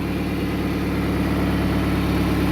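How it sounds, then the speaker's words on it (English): A 2007 Jeep Patriot engine idles steadily after its warm-up, a close, even low rumble with a faint rhythmic pulse and no talking. "she idles down nicely once it's done the warm-up routine."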